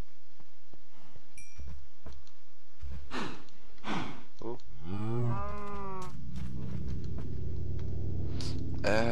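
Cattle moo loudly and close by while being fed hay, with several long, drawn-out lowing calls and snorts and breaths between them. A drawn-out moo dominates the second half.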